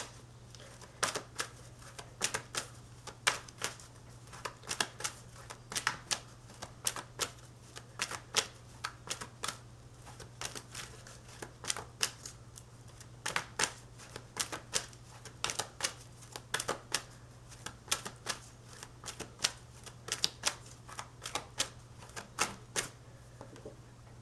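A Pear Tree Oracle deck is shuffled by hand in rapid, steady riffling bursts of card clicks, repeating close up for a long stretch over a low constant hum, with no talking.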